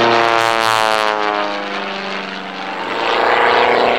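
A Pitts Special aerobatic biplane's piston engine and propeller drone loudly and steadily, the pitch sliding slightly as it passes, with no talking.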